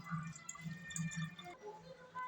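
Water runs and drips into a container, a light splashing trickle with a few rhythmic low pulses, fairly close and quiet.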